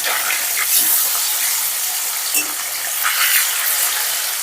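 Fish pieces frying in oil in a pan, giving a steady bright sizzle with small pops and crackles throughout, close by with no voices.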